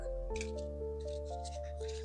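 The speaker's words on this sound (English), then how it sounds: "Let me shuffle the deck." A deck of Kipper cards is shuffled up close in soft, papery riffling bursts, with steady background music tones beneath.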